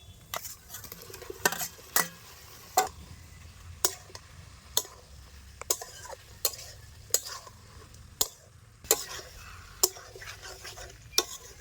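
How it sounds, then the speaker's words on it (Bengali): Spices being fried down in a pan for a duck egg curry, with a faint sizzle under a dozen sharp, regularly spaced scrapes and taps of a spatula against the pan. "মশলাগুলিকে আমি ভালো করে কষিয়ে নিচ্ছি"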